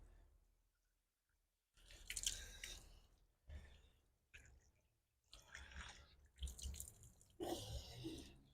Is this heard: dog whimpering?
no